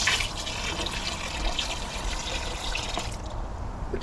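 Water pours steadily into a turkey brine container holding the bird, a continuous near trickle and splash of liquid filling the vessel without any talking.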